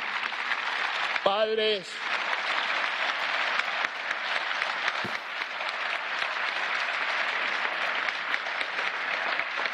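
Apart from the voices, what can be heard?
audience applause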